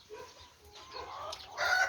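A sick, listless hen on a chicken farm in South Korea gives a few soft, nearby clucks and a drawn-out call, quiet and brief, with no voices.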